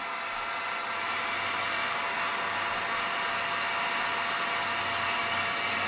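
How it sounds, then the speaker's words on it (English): A heat gun blows steadily on plastic during a repair on a KV75 MT1, a continuous broadband hiss-roar like a hair dryer that holds at a constant level, close and loud, with no talking. "You want to keep the heat gun moving. Don't keep it in one area."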